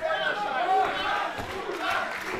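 A sold-out wrestling crowd roars and cheers steadily throughout a professional wrestling match, while a commentator talks over the noise.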